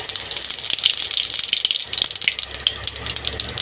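Whole cumin seeds fry in hot mustard oil in a kadai as the tempering for a Bengali shrimp and cabbage dish, giving a close, steady sizzling hiss with fine crackles throughout.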